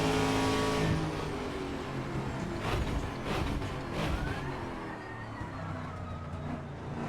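Trans-Am race car in Assetto Corsa, a heavy, powerful engine droning steadily at close range with shifting revs and a few rising surges, heard without talk.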